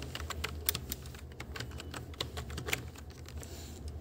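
Quick, uneven keystrokes on a computer keyboard while typing out a list, crisp clicks close to the microphone in steady bursts with no talking.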